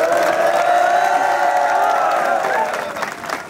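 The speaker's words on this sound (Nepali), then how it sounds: "हामी विवेक गुरुजीलाई पनि ताली बजाइदिउँ न" A crowd at a running event claps and cheers, with voices and whoops rising over the applause before the noise fades slightly toward the end.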